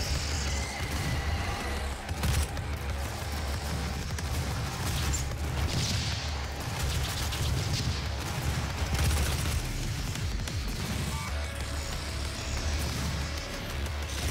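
Rocket launcher blasts during a Doom (2016) fight, heavy booming detonations layered over dense combat noise and music, with repeated loud impacts scattered through the stretch.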